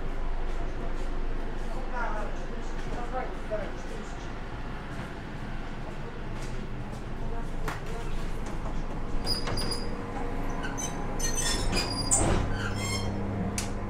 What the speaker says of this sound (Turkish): Yani buna tren diyoruz ama aslında hani elektriçka diye geçiyor bu.